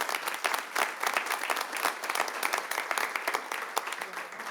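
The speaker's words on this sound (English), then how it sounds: "One more big round of applause for these four new guys." People at a city council meeting applaud four new police officers with a lively round of clapping from the room that holds steady and then eases off.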